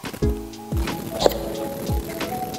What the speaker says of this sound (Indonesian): Dia sudah memiliki drag clicker.